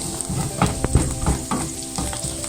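Vegan bagoong fries submerged in olive oil, giving a constant close sizzle broken by irregular scraping stirs, moderately loud, with no talking.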